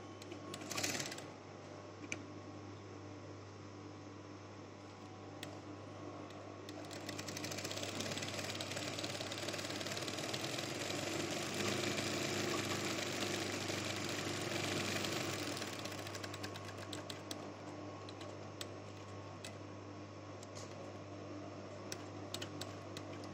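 A sewing machine stitches a gents' half open shirt along the buckram, its steady mechanical whir running continuously and growing louder midway, with a constant low motor hum underneath and no talking.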